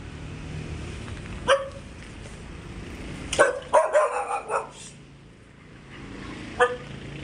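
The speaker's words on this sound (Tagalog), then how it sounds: "Oh, may mga aso-aso dito." Dogs bark in short bursts outdoors, one bark, then a cluster of several, then another, over a low background rumble.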